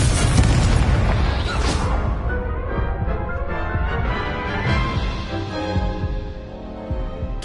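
A Confringo spell explosion in Hogwarts Legacy erupts in a loud booming burst that opens the clip, then rolls on as a dense, rumbling blast tail that slowly fades.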